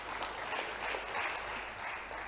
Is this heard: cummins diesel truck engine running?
no